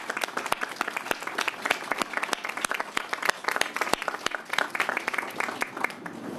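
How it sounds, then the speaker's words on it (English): Applause at the opening of a rebuilt asphalt plant: a modest crowd claps with distinct, fairly close individual hand claps rising above a lighter patter, lasting several seconds. "Let's give them all a round of applause for the work they do"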